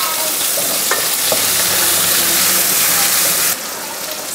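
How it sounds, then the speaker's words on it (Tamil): Garlic and curry leaves sizzle loudly in hot oil in a pan while being stirred, a dense steady frying hiss with small scraping clinks that shifts to a slightly quieter, brighter sizzle near the end. "பூண்டு வந்து இந்த அளவுக்கு வந்து செவந்தா போதும்."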